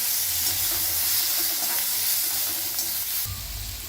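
Chillies sautéing in a pan, a close continuous sizzling hiss with faint stirring, steady throughout, with a low thump near the end.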